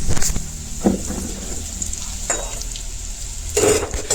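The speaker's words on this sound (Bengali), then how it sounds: "ওদিকে তেলটা গরম হইতে থাকে আর ওদিকে করে করিয়ে নিয়ে কড়াইয়ের মধ্যে ছাড়ি দিন" Radish bhujia batter hitting hot oil in a wok: a close, busy sizzle with bursts of crackle and scraping stirs.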